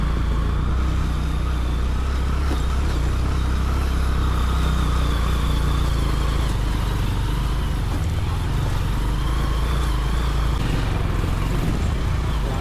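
A motorcycle rides over a badly damaged rural road, giving a continuous rumbling engine drone with road noise and rattling throughout, steady and fairly loud.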